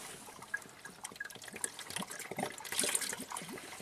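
Engine coolant draining out of a Maserati during an engine teardown, splashing and trickling steadily into a drain pan, with a busy, uneven watery patter that grows slightly louder near the end.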